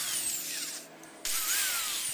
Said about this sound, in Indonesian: bor dinyatakan oke ya teman-teman, berfungsi dengan bagus dan baik